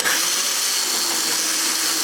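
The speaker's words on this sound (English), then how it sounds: "First step is to drill the hole." A power drill whines steadily at high pitch while boring a hole into a car side skirt, a continuous close-up motor tone with no pauses.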